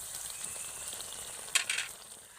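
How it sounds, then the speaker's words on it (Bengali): Amla hair oil with fenugreek seeds stirred in a pan as it heats, a soft continuous sizzle with a brief louder burst of scraping and spitting near the end. "আবারও একটু এইভাবে নেড়ে দেব দিয়ে ফুটিয়ে নেব"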